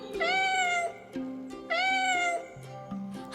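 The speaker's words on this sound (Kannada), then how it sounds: "ಬೆಕ್ಕು" A cat meows twice, clear and fairly close, each call a short rising-then-falling cry with a pause between, over a soft musical backdrop.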